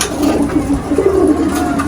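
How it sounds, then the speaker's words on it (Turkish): Domestic pigeons being flown and settling back into their coop give steady soft cooing throughout, with no clear wingbeats standing out and no talk. "Güvercinlerimizi güzel bir şekilde uçurduk."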